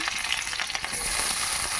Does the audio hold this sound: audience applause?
no